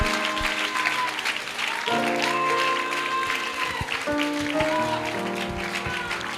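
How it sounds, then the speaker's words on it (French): A church congregation claps for the Holy Spirit in a steady, dense patter of applause, with organ or keyboard chords held underneath and a preacher's voice occasionally rising over the crowd. "Acclame le Saint-Esprit."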